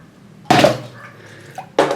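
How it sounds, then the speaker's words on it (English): Water from a cup splashes onto a Lenovo Vibe P1m smartphone in two sharp, close bursts, each a quick slap of liquid against the hard surface with brief dripping between. "knock a cup and spill it all over my phone"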